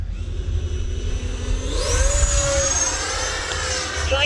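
A Freewing F-22 90mm electric ducted-fan RC jet roars through a full-speed climb, its steady whine sweeping upward in pitch as the throttle opens, loud and close with continuous wind rush beneath.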